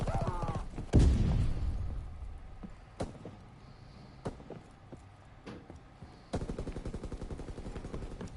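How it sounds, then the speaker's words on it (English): Suppressed gunfire in a first-person video game: a cluster of muffled shots near the start, then scattered single dull thumps, and a final quick run of rapid bursts, with faint background game ambience. "how did he even know I was there? Because this gun is suppressed."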